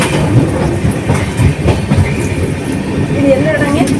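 A moving AC passenger train on the Chennai Central to Delhi Tamil Nadu Express, heard as a steady rumbling roll with faint wheel clatter, recorded from inside the carriage, with some talk underneath.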